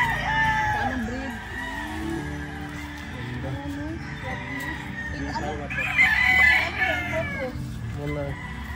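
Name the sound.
gamefowl chickens clucking and rooster crowing at game farm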